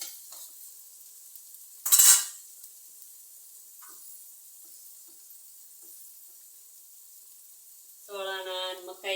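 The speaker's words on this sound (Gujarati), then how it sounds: "હવે આપણે મકાઈ નાખી છીએ વઘારમાં." Corn kernels sizzle in hot tempering oil for a corn sambharo, a steady close hiss with one loud stirring scrape partway through and a brief tonal sound near the end.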